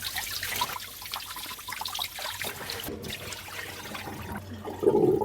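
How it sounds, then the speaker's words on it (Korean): Pork ribs rubbed and rinsed under a running kitchen tap, with water trickling and splashing continuously at close range, slightly louder bursts of spray toward the end; no voices. "요거를 한번 흐르는 물에 가볍게 이렇게 문질러서 다 헹궈 주세요"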